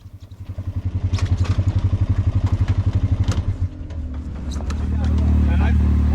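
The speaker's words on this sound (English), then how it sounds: "We'll load the Rubicon up on the trailer and get it ready to take home" A Honda Rubicon ATV engine running nearby, a rhythmic pulsing idle that shifts into a steadier, louder drone as the machine moves onto a trailer, with people talking over it.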